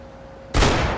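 Gunfire in Max Payne 3 bursts in suddenly after a near-silent moment, one loud, sharp blast that trails off into a sustained rumble.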